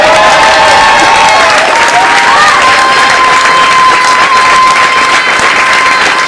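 Loud, sustained applause and cheering from a café concert audience, a dense wash of clapping with crowd noise and a faint lingering tone beneath.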